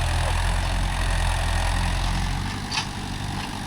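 A Mahindra tractor, either an Arjun Novo 605 or a 415 DI, pulls a 9-tine cultivator through a field, its engine giving off a steady, loud, low diesel drone that runs throughout.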